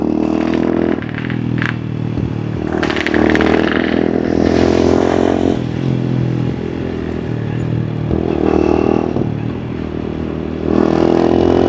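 A WMOTO Porter 125 underbone motorcycle runs steadily nearby, its small engine humming with several revving swells and some clattering mechanical noise, with no talking.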